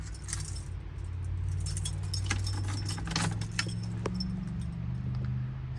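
Car keys jangle and clink repeatedly, close and fairly quiet, as they are handled before starting a 1966 Ford F100 pickup truck, over a low steady background rumble.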